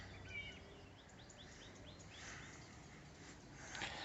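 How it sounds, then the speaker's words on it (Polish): Faint birds chirp and sing in short repeated phrases, distant over a soft outdoor background hiss. "posłuchajmy jak pięknie ptaki śpiewają"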